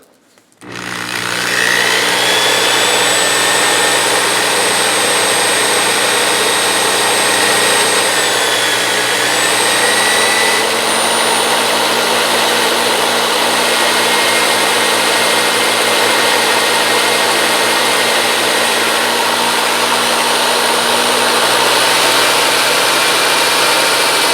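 A coin ring is worked with 100 grit sandpaper on a spinning tool, a loud steady motor whine starting abruptly and holding nearly constant throughout, with slight shifts in pitch as pressure changes.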